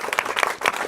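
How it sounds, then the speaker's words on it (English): A live audience at the Nudgestock 2022 conference event bursts into a brief, brisk round of applause, dense clapping with a few cheers, close and loud throughout the moment. "Round of applause, everybody."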